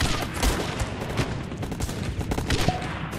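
Dense bursts of gunfire and machine-gun fusillades in the strategy game Guns Up!, rapid overlapping shots at fairly loud level, continuous across the stretch with no talk.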